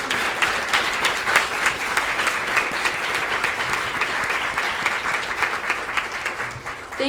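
Sustained applause from an evening event audience honoring invited guests, steady dense clapping throughout with a busy crowd texture.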